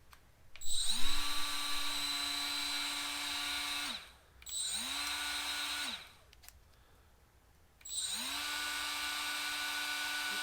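A Milwaukee M12 cordless straight die grinder runs at its highest RPM in three separate bursts. Each burst spins up to a steady, high-pitched whine, holds for a few seconds and then winds down, with short quiet gaps between them.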